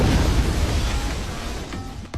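A low, rumbling explosion sound effect in a dramatized story about an accident at an experimental tank, heavy at first and then fading, with a small pop near the end.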